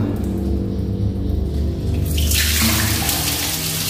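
A tap is opened and hot spring water fills a bath at a hot spring bathhouse, a low steady gush that suddenly bursts into a loud, close, hissing rush.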